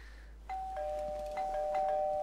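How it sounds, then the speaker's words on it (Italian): Doorbell in the game Mafia 2 Definitive Edition, chiming with a clear, sustained two-tone ring. Soft struck tones are layered over a low room hum, heard alone with no speech. "Ah sì, il campanello."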